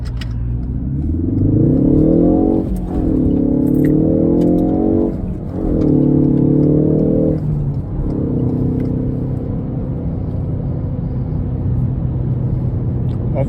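A Ford Focus ST Mk4 in sport mode accelerates hard from a standstill, its engine note climbing loudly in repeated sweeps broken by brief dips at each gear change, heard from inside the cabin with no talking.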